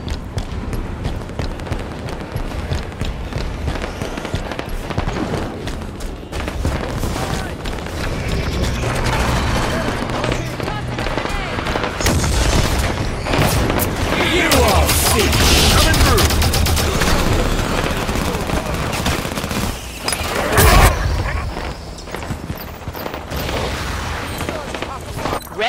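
Rapid gunfire bursts and booming explosions in a Halo 5 Big Team Battle match, loud and continuous with vehicle fire from a Ghost, with a voice talking over the combat.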